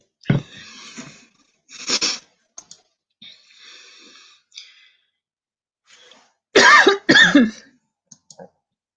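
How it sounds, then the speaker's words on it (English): Repeated harsh coughs come in bursts with pauses and wheezy breaths between, ending in a loud, rapid double cough close to the microphone. "I had a bit of a coughing fit."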